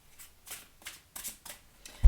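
Tarot cards are shuffled by hand in several quick riffling bursts at close range, separated by short pauses, ending in a louder thump.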